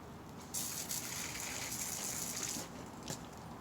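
An aerosol spray can blasts at a bee nest, a sharp hissing burst beginning about half a second in and holding for two seconds, followed by a short second spurt.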